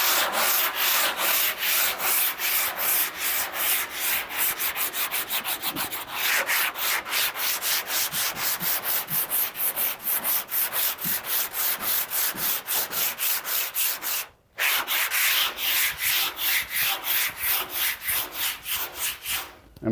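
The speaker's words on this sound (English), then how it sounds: "So what I'm going to do is just go through and sand this." Body filler on truck bodywork being hand-sanded in fast, steady back-and-forth rasping strokes, loud and close, with one brief pause partway through before the scraping rhythm resumes.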